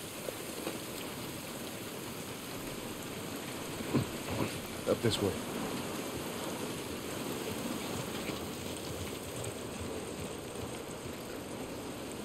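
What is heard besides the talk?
rain in the video game The Last of Us Part 1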